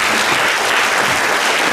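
A conference hall crowd at a foster parenthood day event in Olsztyn applauds loudly and steadily as a woman steps onto the stage, a dense, even wash of clapping throughout.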